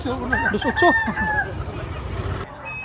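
A large gamecock, a black-legged bullstag of about 2.5 to 2.8 kg at the Carbon market, crows loudly and close in one strained call lasting about a second and a half, followed by low background murmur.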